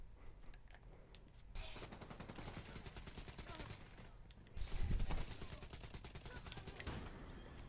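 Sustained bursts of rapid automatic fire from an M60 light machine gun in The Division 2, rattling in long rhythmic strings with brief pauses between them.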